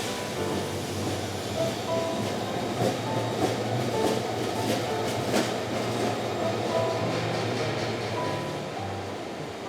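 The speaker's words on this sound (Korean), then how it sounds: "기차는 사람들을 싣고 떠납니다." A train pulls away from Gupo station, a steady rumbling rolling noise with wheel clatter and a few sharp squeals and clicks, close and continuous throughout with no voices.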